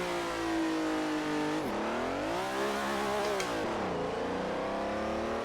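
Ferrari engine in the Assetto Corsa racing game revving hard at a launch, a loud continuous howl that rises, dips as it shifts, and climbs again, steady and close with no talking.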